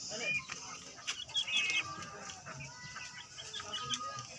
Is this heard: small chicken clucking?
yes